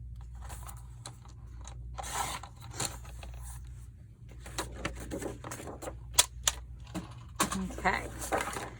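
Material for an ephemera holder is trimmed down a little, with close, irregular scraping and snipping rubs and small clicks and taps spread across the stretch.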